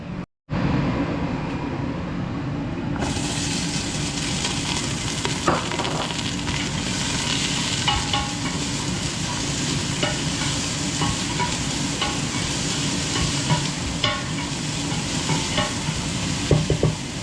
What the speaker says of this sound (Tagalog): gisahin mo na dito mga par yung ating sibuyas tsaka bawang